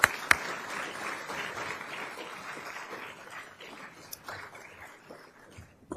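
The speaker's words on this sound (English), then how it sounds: "let's just give them a round of applause" Audience applause at a military change-of-command ceremony, a steady moderate patter of many hands with a few sharper claps that fades slightly toward the end.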